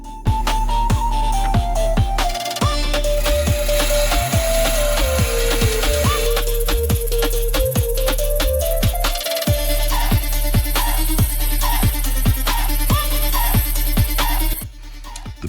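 A trim saw slices through a small chip of moss agate, a steady loud whine with a drifting pitch and rhythmic grinding pulses running nearly the whole time, then stopping abruptly near the end.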